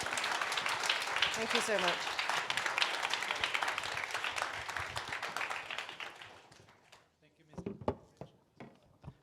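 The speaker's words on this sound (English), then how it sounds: "Please give our panel speakers a big round of applause." Audience applause for a climate transition panel in Hong Kong: loud, dense clapping for about six seconds that fades out, after which a speaker offers brief thanks into the quieter room.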